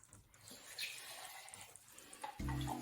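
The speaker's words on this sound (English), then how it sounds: "Add a little bit more water in my tin can." Water runs from a tin can into a pot of meatballs simmering in tomato sauce, a soft steady pour that grows louder and heavier toward the end.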